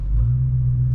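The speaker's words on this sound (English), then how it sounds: "I really like the rumble of the HEMI." Deep, steady low rumble of a 2021 Dodge Charger R/T HEMI V8 idling, loud and close, heard alone without talk for under a second.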